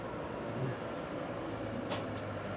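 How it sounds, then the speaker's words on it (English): A passing train makes a steady, broad rumble that holds at an even level throughout, heard from some distance as a continuous wash of noise, with no one speaking. "Can you hear the train?"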